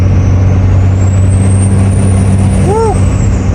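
A Cummins-swapped diesel tow rig pulling a skid steer under a little throttle, a loud, steady engine drone from inside the cab with a rising turbo whistle above it and a short chirp near the end.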